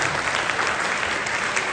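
Steady audience applause fills a hall at a commemorative event marking 150 years since President Syngman Rhee's birth, with no voices heard over the dense, even clapping.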